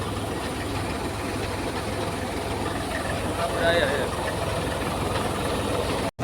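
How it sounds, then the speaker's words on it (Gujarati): A Swaraj tractor engine chugs steadily at idle on a farm, a low rumbling drone, close by, with voices talking over it. "હા ઓલા ભૌતિકનું ટ્રેક્ટર છે, સેકાના પપ્પા ઉકાભાઈનું."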